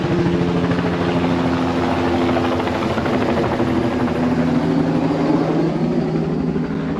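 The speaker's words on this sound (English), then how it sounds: "Here's the chopper." Helicopter passing overhead above bushland during a nearby bush fire, a steady loud rotor thump and engine drone holding throughout with no break.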